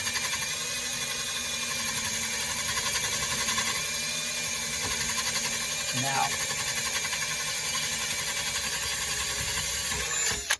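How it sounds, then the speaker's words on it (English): A power drill bores a small pilot hole in aluminum with almost no pressure, a continuous whirring drone running steadily throughout at moderate level. "So it drills real easy because it's only aluminum"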